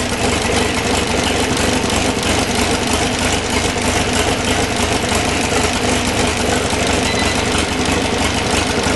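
Alpine 1600S engine running on a test bench while exhaust is measured, a loud, dense, continuous roar that holds steady with no pauses throughout.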